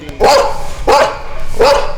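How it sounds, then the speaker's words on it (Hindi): Dogs bark three times at a steady pace, each bark loud and close with a rising, slightly whining tone and brief quiet gaps between. "ऊपर को मुंह उठा करके कुत्ते भौंक रहे हैं।"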